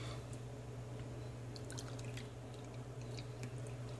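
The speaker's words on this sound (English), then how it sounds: "I'm going to go ahead and pour that in my measuring cup" Six fresh-squeezed lemons' worth of juice being poured into a measuring cup, a faint, steady trickle with small drips over a constant low background hum.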